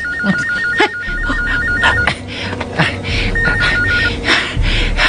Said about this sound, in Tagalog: Ang telepono de.